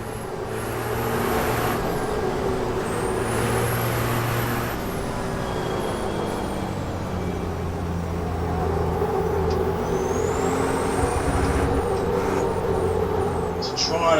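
A racing truck in the Formula Truck 2013 game corners with heavy understeer, its engine a steady loud drone rising and falling with throttle, while someone talks over it.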